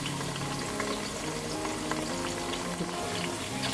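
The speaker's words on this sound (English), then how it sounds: "we're going to allow it to fry just for about 2 minutes to bring out the flavor there" Ingredients fry in a hot pan before tomatoes go in, giving a steady, close, dense sizzle with light crackles and the odd stir, with no talking.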